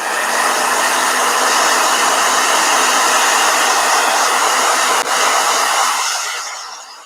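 Blow dryer runs loud and steady with a constant roaring whir, briefly catching near the end before it winds down and cuts off.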